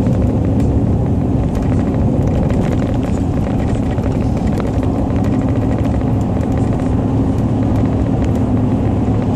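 A car rolls onto the 874 Don Shula Expressway on-ramp in Miami with a steady, loud rumble of road and engine noise from inside the cabin. A faint ticking runs through it.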